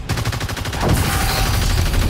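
Rapid gunfire aimed at the Kraken in the video game Evolve, a loud sustained burst of automatic shots with dense rattling pulses, close and continuous throughout, no talk.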